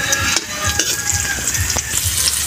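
Chopped onion sizzling and frying in a pan with garlic, ready for pork offal, a steady crackling sizzle with soft scraping stirs of a utensil recurring every half second or so.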